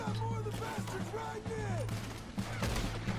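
Gunfire in Red Dead Redemption 2, a rapid cluster of sharp shots amid game sounds, with a voice reacting over the action.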